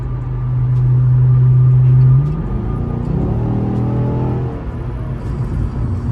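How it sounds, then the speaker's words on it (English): A Chevrolet SS engine drops a gear while cruising, a steady loud drone that breaks at the downshift into a rising, revving whir before settling to a lower rumble, heard from inside the car with no talking. "Got a downshift here."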